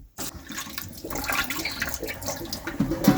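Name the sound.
draining soaking water from salt beef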